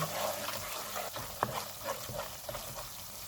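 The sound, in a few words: roasting spices in oil in a pan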